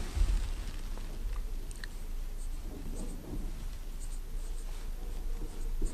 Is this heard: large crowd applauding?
no